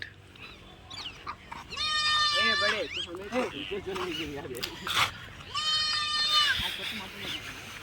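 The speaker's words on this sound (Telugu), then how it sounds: "ఇక్కడ మేక అయితే అరుస్తుంది" A goat bleats loudly twice, long wavering cries up close, with a person talking in between and underneath.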